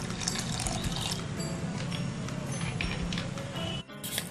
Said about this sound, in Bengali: নিয়ে এর মধ্যে আমি জলটা অ্যাড করছি